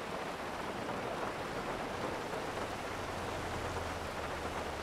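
Rain falls steadily at night during a police traffic stop, a continuous soft hiss of drops on surfaces, fairly quiet and uninterrupted, with no voices.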